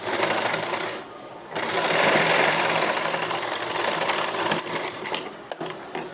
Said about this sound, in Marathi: आता आपण दुसऱ्या साईडचं पण इथं टक्स मारून घेऊया